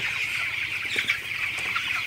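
A flock of 18-day-old broiler chickens clucks and chatters softly and continuously in a poultry shed, over a steady low mechanical hum.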